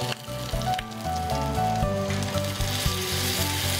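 Spice paste frying in a pan on a television cookery show, a steady close crackling sizzle running under background music with sustained tones, no voices.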